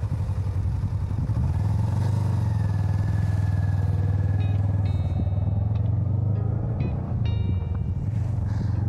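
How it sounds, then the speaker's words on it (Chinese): A motorcycle on an open road in northern Xinjiang, on the way to Yili, gives a loud, steady engine drone that runs the whole stretch, with some mechanical clatter near the end and no talking. "摩托车就是快啊！"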